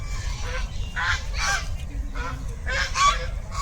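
Ducks at Rajghat in Delhi quack loudly in several harsh, honking bursts close by, with brief pauses between calls over a low background rumble.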